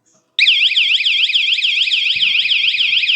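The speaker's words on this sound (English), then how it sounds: "if there is movement, the alarm goes off" A loud electronic bike alarm siren, triggered by movement, starts abruptly and wails continuously in a rapid warbling pattern, close and piercing, with faint knocking underneath.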